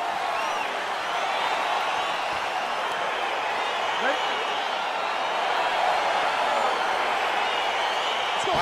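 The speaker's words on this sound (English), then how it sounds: "crowd getting excited as this fight gets underway" Excited arena crowd from the UFC 4 video game, a constant broad roar and murmur at the start of a fight, steady in level with faint whistles and shouts rising out of it.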